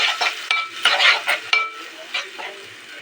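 Onion with ginger-garlic paste frying in oil, giving a steady bright sizzle broken by repeated scrapes and clinks of a stirring utensil against the pan, with no voices.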